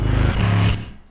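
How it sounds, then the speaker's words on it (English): Stacked synth basses from a pop track play together with drums and other instruments, a full, loud wall of low-heavy sound that thins and drops away near the end, with no speech. "So this is what the whole bass stack sounds like"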